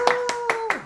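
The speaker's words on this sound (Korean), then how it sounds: "7년째가 됐으니까 박수 한번 쳐야겠다" Four sharp, evenly spaced hand claps ring out up close during a counselling talk session, over a faint steady tone.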